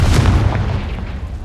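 The Confringo blast spell in Hogwarts Legacy lands as a single deep booming explosion that rumbles and fades over a second, loud and close with no voices.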